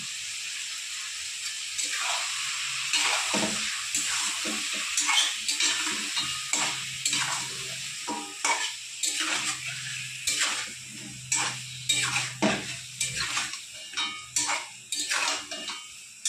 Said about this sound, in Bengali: অল্প পরিমাণ লবণ দিয়ে চিকেনটা ভেজে নেব হালকা করে